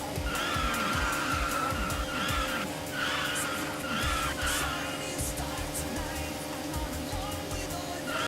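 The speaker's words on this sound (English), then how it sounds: "the screeching noise from the car whenever you drift sounds like ee, ee, ee every time" Repeated high tire screeches from a car drifting in a Japanese PlayStation 2 racing game, squealing in bursts over a steady engine drone and skidding noise.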